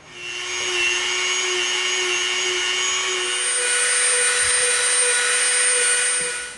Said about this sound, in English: we'll probably go around the edge of this with the Dremel so we can round off these top edges